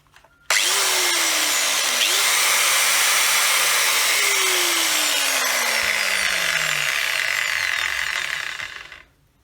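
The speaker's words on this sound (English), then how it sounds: "repairing a Bosch GWS-6-115 angle grinder" A repaired Bosch GWS-6-115 angle grinder switches on with a loud high whine, spins up and holds a steady scream for several seconds, then cuts off and winds down to silence.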